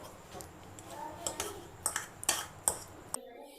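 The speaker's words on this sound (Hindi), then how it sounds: "इनको अब हम करेंगे कांटे की मदद से श्रेड अच्छी तरह से" Soft clinks and scrapes come from a fork shredding four boiled eggs, quiet and close, with a run of sharper taps toward the end.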